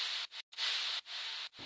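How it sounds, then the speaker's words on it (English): A distorted noise layer from an electronic dance track on Hexagon Records: a harsh, hissing wash in steady bursts broken by short, sharp gaps, with no voices. "Then I have this distorted noise"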